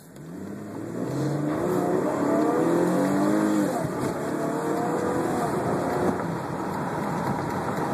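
A 2012 Camaro V6 pulls hard through its six-speed gears, the engine climbing in pitch, dropping at a shift and climbing again, steady and close from inside the car.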